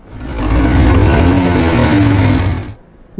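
A worn Yamaha G5 motorcycle engine runs loudly for a few seconds with a rough, rattling mechanical noise, then cuts off abruptly into near silence.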